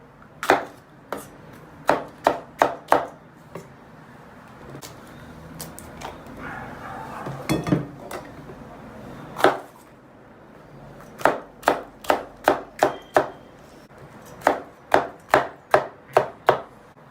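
A knife chops peppers quickly on a cutting board in sharp, rhythmic bursts of strokes, separated by brief pauses with faint background noise.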